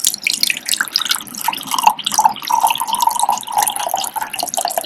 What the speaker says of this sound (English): I'm going to fill up this glass with water.